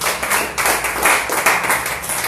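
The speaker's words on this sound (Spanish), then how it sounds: "Den un aplauso al Señor." A church congregation breaks into steady, fast applause, dense clapping from many hands that sounds close and lively throughout.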